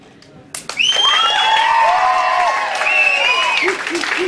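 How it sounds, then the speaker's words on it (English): A presentation night crowd bursts into loud, close applause with wild screaming and whooping cheers over sustained clapping, high shrieks rising and falling throughout. "the definition of rapturous applause is wild screaming"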